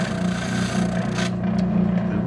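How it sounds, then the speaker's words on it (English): Beveling the back edge of wooden trim on custom kitchen cabinets, with a loud, close, steady power-tool hum and a continuous rasping, grinding cut across the wood, no talking. "I'm just lifting it up so I can bevel that back edge"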